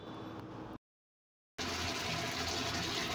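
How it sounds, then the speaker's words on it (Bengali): Pre-fried amudi fish go into a simmering curry gravy, giving a steady, close, loud bubbling and watery rush that cuts out briefly, then returns just as strongly. "এবার দিয়ে দিচ্ছি আগে থেকে ভেজে রাখা মাছগুলোকে।"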